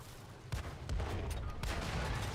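Tank gun fire from an EBR 75 MLE '54 in a video game, with a few sharp blasts rising out of a steady rumble of engine and battle noise, spaced unevenly across a couple of seconds.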